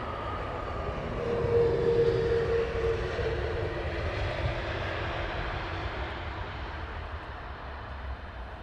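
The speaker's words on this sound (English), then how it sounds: "nice 777 going off there, American Airlines" American Airlines Boeing 777 taking off at London Heathrow, a steady distant jet engine roar that swells slightly and holds, heard alone without voices.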